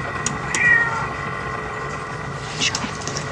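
A cat meows a few brief times in a scene from the film Alien, set against a low mechanical hum and tense ambient drone.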